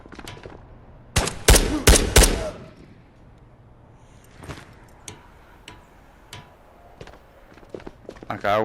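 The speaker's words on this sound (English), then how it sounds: "but who's shooting at me?" Gunfire in the video game Ghosts of Tabor, a quick burst of loud, sharp shots clustered together near the start, followed by quieter scattered ticks and footsteps, with a voice speaking throughout.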